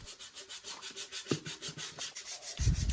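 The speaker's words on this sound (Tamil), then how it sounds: "அதையெல்லாம் ஒரு சாண்ட் பேப்பரை வச்சு நல்லா க்ளீனாக சுரண்டி எடுத்துகிட்டு" A dried bottle gourd is sanded by hand with sandpaper, producing close, steady back-and-forth rasping strokes, about five per second, with a heavier thump near the end.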